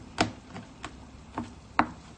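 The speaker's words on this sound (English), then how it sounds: "Look how many people are watching this chopping the nuts." A knife chops nuts on a cutting board in about five sharp, irregularly spaced taps, fairly close but quiet against a soft background hiss, with no talking.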